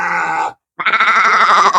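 A sheep bleats loudly and close at a Sundanese ram fight: one long nasal call, a brief silence, then a second, longer wavering bleat.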